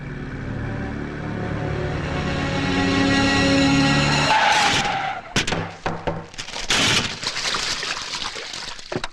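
A scooter skids to a sudden stop in a Malayalam movie scene. A long, rising tire screech gives way to a burst of scraping and clattering as it halts, loud and close.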